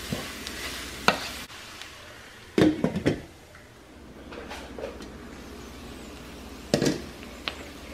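Cuban picadillo simmering at low-medium heat in a pan, with a soft steady sizzle under a few spoon-scraping stirs and knocks, the loudest bursts near the start, middle and end.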